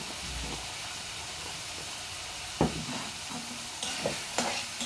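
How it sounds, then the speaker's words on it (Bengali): Ground garam masala spices fry in a pan for khichuri, a steady close hiss and sizzle with occasional scraping strokes of a stirring spoon, and no talking. "আর একটু ভাজা ভাজা করে নিব।"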